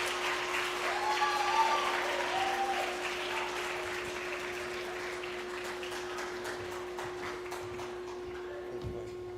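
School audience applauding at an English school in Kuwait, sustained crowd clapping that starts fuller and gradually thins, with a steady electrical hum beneath and a brief voice early on.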